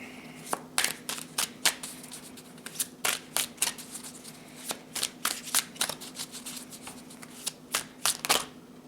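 A deck of tarot cards is shuffled by hand close up, giving a run of crisp riffling snaps in an uneven rhythm over a faint steady hum, with no talking.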